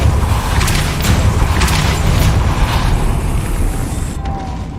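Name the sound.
Depulso spell being cast in a video game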